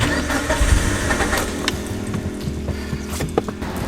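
A car with a failing camshaft position sensor cranks without starting, its starter grinding in a steady, near, moderately loud churn with no engine catching, over about four seconds.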